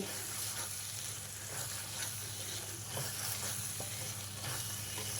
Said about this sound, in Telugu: కొంచెం గరం మసాలా పౌడరు వేసి దీన్ని బాగా కలిపేసి స్టవ్ ఆఫ్ చేసుకోవడమేనండి